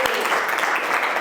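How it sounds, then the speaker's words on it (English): A burst of clapping from a small crowd, dense and steady throughout, with no clear pauses. "Round of applause."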